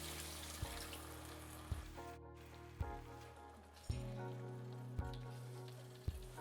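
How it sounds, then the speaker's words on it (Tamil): Cabbage kofta curry with tomato bubbling and sizzling as it starts to boil in a pan, a steady simmering hiss with soft regular pops, under faint background music. "இப்போ குழம்பு நல்லா கொதிக்க ஆரம்பிச்சிருச்சு."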